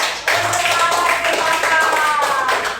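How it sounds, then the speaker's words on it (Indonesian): A classroom group claps hands after a reading, a brisk patter of close clapping that runs throughout, with a faint voice and some brief tonal sounds mixed in. "Ya, beri tepuk tangan"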